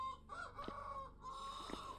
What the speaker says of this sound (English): Apparently chicken's right above me.